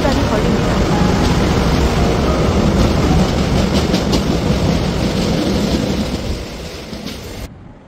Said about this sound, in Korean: 인천으로 가는 보통열차가 교각에 닿을 듯 말 듯 아슬하게 구일역을 빠져나갑니다.